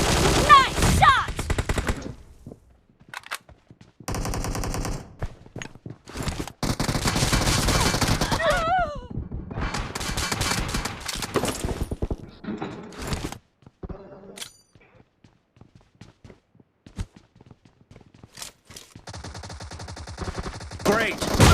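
Video game gunfire crackles in dense automatic bursts and fusillades, loud and close, with gaps of near silence between exchanges of fire.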